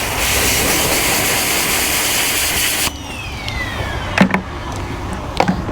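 Strong hiss of water spraying onto a car wheel during a rinse, loud and steady for about three seconds before cutting off, followed by faint drips and light knocks.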